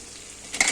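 Potatoes frying in oil for a spiced potato and mince dish, with quiet background hiss that swells into a brief, louder sizzle near the end.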